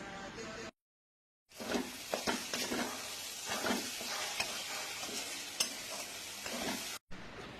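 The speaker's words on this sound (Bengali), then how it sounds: "এই আদা পেস্টটা দিয়েও ভালো করে কষিয়ে নেব।" Ginger paste fries in a pan for Bengali doi katla fish curry while a spatula keeps stirring it. A dense, close sizzle carries repeated scraping strokes, with short silent gaps near the start and end.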